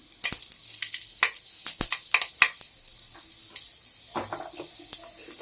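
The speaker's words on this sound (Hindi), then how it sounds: "इसमें सरसों, मंगरेल, सौंफ, जीरा, मेथी, ये 5 इस तरीके से तड़के में डालते हैं।" Five whole spices, mustard seed, nigella, fennel, cumin and fenugreek, crackle and sizzle in hot oil, a close run of sharp pops and spits that thins out over a few seconds, with no talking.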